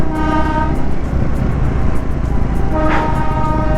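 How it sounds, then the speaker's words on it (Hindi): A diesel toy train on the mountain line near Sonada passes close by, a loud heavy rumble with a sustained horn-like tone and a brief toot near the end. "देखो टॉय ट्रेन जा रहा है"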